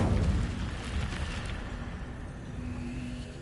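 The Incendio fire spell cast in Hogwarts Legacy gives a rumbling whoosh of flame. It is loudest at the start and fades into a steady roar.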